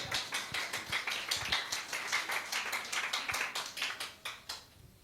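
A church congregation at a Resurrection Sunday service claps in a steady, regular rhythm for several seconds. The sharp hand claps are moderately loud and land close together, then stop abruptly, with no voices over them.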